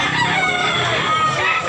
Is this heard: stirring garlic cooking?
no